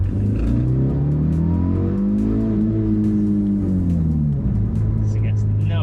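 A 20-year-old Audi TT rumbles steadily from inside the cabin on its first drive, its engine note rising and falling as it accelerates. A voice talks over the engine.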